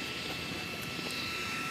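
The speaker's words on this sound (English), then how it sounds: "The noise is the fan for the speed control." Cooling fan for the speed controller of a Radio Flyer electric scooter with its body removed, running as a steady, close whirring drone with a constant tone and no other sounds over it.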